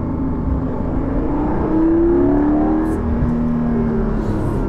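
A Porsche 718 Cayman GTS 4.0 sports car engine revs up and settles, heard as a steady loud drone with rising and falling tones from inside or close by.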